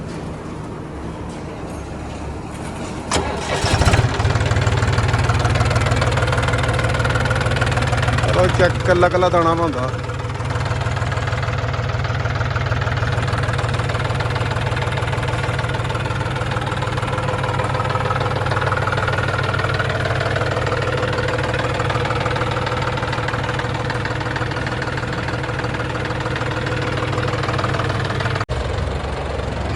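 A repaired John Deere 5038D tractor diesel engine idles steadily with a low, continuous rumble close by, after a brief louder burst early on; a voice talks over it in places.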